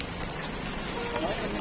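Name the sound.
hail falling on road and motorbike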